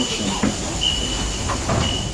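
A Saint Petersburg metro train on line 3 pulls away, its steady rumble and rail noise filling the car with a few faint clunks and a thin high whine, no one speaking.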